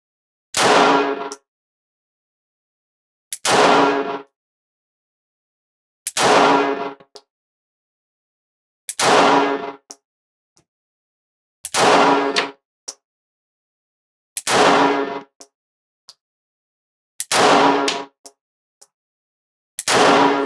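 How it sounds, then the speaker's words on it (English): Single shots from a Springfield Hellcat pocket pistol at the range, about eight sharp loud reports spaced several seconds apart with silence between them and no talking. "So let's go ahead and start with our Hellcat 10 shots."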